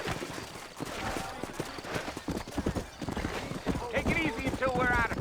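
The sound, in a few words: horses from the video game Red Dead Redemption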